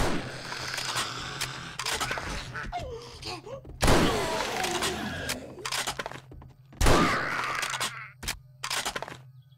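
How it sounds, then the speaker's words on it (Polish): Gunfire in the survival video game 7 Days to Die, several sharp loud bursts with reverberant tails spread across a noisy, busy game soundscape, with a steady low hum underneath. "Słyszę strzały."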